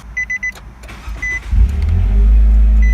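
Car engine with the muffler removed starts up and settles into a loud, deep, steady exhaust drone after a second and a half of short beeps and clicks.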